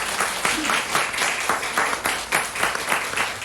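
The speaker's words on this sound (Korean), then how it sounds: "박수 한번 쳐주세요." Church congregation applauding during a praise and testimony service, a steady wash of many hands clapping throughout, fairly loud and sustained with faint voices mixed in.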